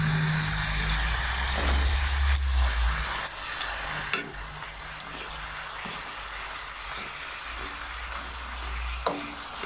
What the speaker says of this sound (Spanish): Y voy a ir poniendo pues a freír más